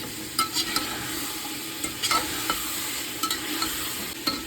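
Steady frying sizzle of meat and onion in an Afghan cauldron, with occasional scraping clicks as it is stirred, close and continuous, no voices.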